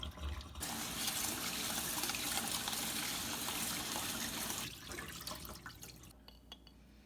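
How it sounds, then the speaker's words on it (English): Rice being rinsed under a running tap at a kitchen sink, a steady close gush and swirl of water that eases into drips and splashes near the end. "Have to rinse the rice until the water is clear."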